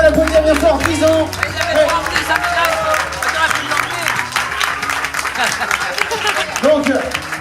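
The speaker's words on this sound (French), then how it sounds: "on peut l'applaudir bien fort" Audience applause and cheering for a firefighter honoured for ten years of service at an evening event, a dense, steady wash of clapping with crowd noise and voices mixed in throughout.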